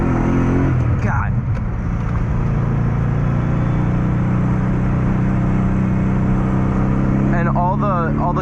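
A BMW E30 with an M60 V8 engine pulls hard on a mountain road, a loud sustained engine drone with a brief rev change near the start, while someone talks over it.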